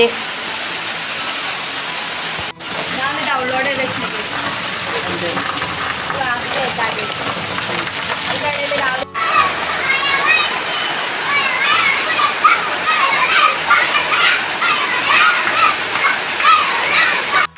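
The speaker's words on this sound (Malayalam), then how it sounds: "നല്ല മഴ" Heavy rain hissing steadily throughout while people, including a child, talk over it, with a couple of brief dropouts.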